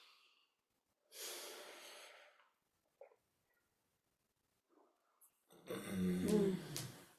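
Slow, deep breaths are taken during a guided relaxation: a long airy inhale, a quiet pause, then a fuller, louder exhale with a soft voiced edge, heard up close.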